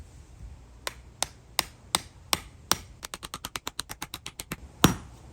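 A hammer drives a spike into lawn edging, at first in slow, evenly spaced sharp strikes and then in a faster run of quick blows, finishing with one heavier hit, close and with no talking.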